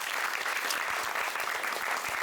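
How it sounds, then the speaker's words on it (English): Audience at an educator workshop clapping together, a dense and even burst of applause that stays steady and fairly loud throughout. "give yourselves a round of applause"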